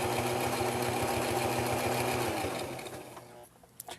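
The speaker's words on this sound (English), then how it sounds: "we're just going to be sewing this down" A sewing machine stitches down the edge of an envelope pillow case, rapid rhythmic mechanical clatter running steadily and close, then slowing and stopping near the end.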